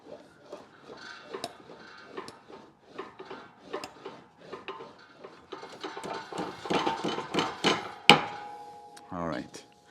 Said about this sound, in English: now I'm going to hammer it a bit so it's level.